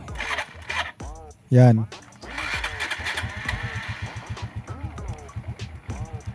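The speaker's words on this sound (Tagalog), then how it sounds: "So umaandar naman siya kaso ang hirap siyang paandarin." A motorcycle with a faulty rectifier regulator is started with difficulty, giving a brief loud cranking burst, then an uneven, sputtering idle putters on as someone talks over it.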